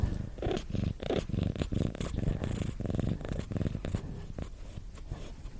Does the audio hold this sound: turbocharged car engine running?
no